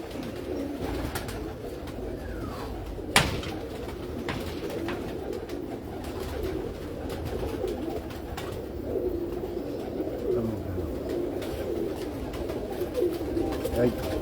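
Pigeons coo softly nearby on a rooftop as people talk over them, with a sharp knock partway through.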